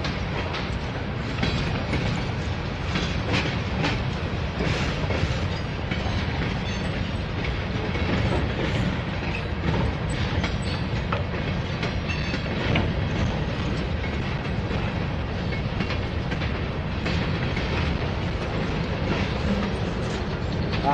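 A Norfolk Southern freight train rumbles past close by for the whole stretch, steady and loud, with rhythmic clickety-clack of wheels over rail joints.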